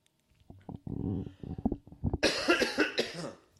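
A burst of harsh, raspy coughing with several rapid hacks, loud and close, following some low throaty noises.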